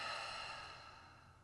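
A long, slow exhale during a calm breathing exercise, a single soft airy rush that fades gradually over a second and a half, close and without talk.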